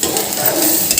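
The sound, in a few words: roasting Maggi noodles in a pan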